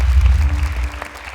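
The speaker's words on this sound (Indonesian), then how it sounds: "Boleh tepuk tangan sekali lagi untuk Gibran Medan." A studio audience at a Quran recitation competition claps, a brief, fairly loud burst of applause with deep rumbling room noise beneath it.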